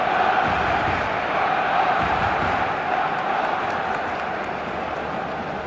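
Stadium crowd in the eFootball 2026 football video game roaring at the start of a match, a broad, dense wall of cheering that holds steady and eases slightly toward the end.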